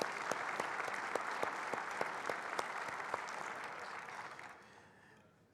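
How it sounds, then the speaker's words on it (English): Audience applause at a luncheon keynote honoring the sponsors, a dense sustained wash of many hands clapping in a large room that holds steady for several seconds, then thins and fades toward the end. "Let's give all the sponsors one more round of applause,"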